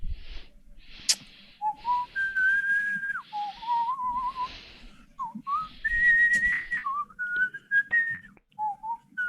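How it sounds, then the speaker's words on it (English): A person whistles the Indiana Jones theme, lively and melodic, with clear sliding notes in short phrases, close and steady over a faint low background hum. "I don't know why I'm whistling the Indiana Jones theme"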